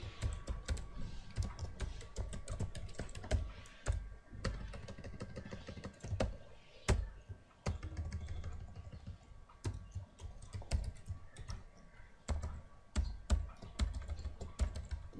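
An address is typed on a computer keyboard during a web design lesson, producing close, uneven bursts of clicking keystrokes with brief pauses throughout.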